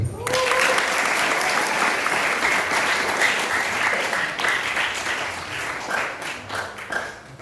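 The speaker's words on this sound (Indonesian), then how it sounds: "Tepuk tangan dulu." Sustained audience applause fills a hall during an Islamic boarding-school talk, a dense, loud wash of many clapping hands that holds steady and then thins toward the end.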